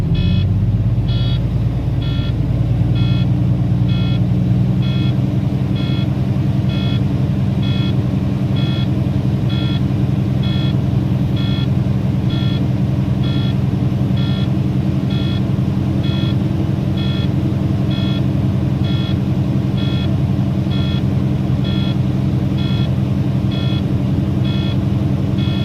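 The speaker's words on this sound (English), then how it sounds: "I'm now going to rev my engine between 11 and 14 RPMs to build up the air pressure in my tanks" A truck engine is held at raised revs during an in-cab inspection to build air pressure in the tanks, giving a steady, loud low rumble with a regular beeping tone repeating throughout and no talking.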